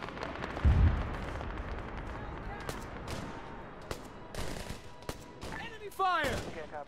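Enemy gunfire in the Arma 3 military game, with a heavy boom early, then scattered sharp shots and bursts at middle distance, and voices talking over the fighting near the end.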